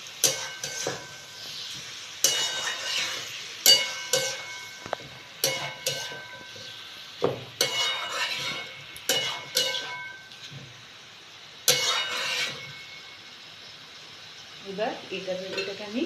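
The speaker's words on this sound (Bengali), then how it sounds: "টমেটো দিয়ে এবার আমি এটাকে আবার ভালো করে একবার নাড়িয়ে নেব।" A spatula repeatedly scrapes and taps a pan while chicken masala with chopped tomatoes is stirred and fried, irregular close strokes over a faint sizzle, with a brief voice near the end.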